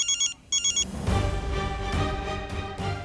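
A telephone rings with two short electronic trilling bursts, then gives way to a brighter melodic ringtone tune that plays on, fairly clear indoors with no talk.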